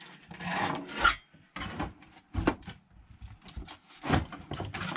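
A putty knife, a mud knife, scrapes old putty from under the edge of an RV sink around a laminate countertop, giving repeated rough rasping strokes with short pauses between them.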